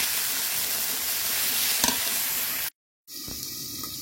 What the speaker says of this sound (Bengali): আমি এখানে মিষ্টি কুমড়া ভাজি করে নিয়েছি হয়ে গেছে এখন নামিয়ে নেব